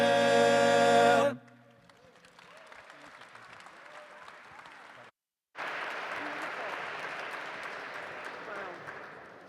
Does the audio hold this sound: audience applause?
yes